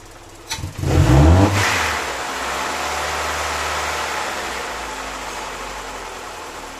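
A Mercedes-Benz M102 engine with EFI, running cold, surges to full throttle in a brief loud rev before settling into a steady, fast idle hum.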